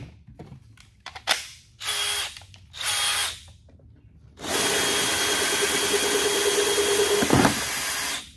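Power drill cutting a hole in a plastic bucket for a bulkhead fitting: a few short bursts of whining drilling, then a long sustained loud cut, close and alone.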